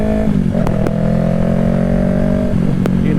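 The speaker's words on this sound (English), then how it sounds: "I think it has the M4 Street Slayer is the best sounding exhaust for the Yamaha R3." A Yamaha R3 motorcycle fitted with an M4 Street Slayer exhaust and its catalytic converter cut out, revving loudly up and down close by, with a steady droning idle between the throttle blips.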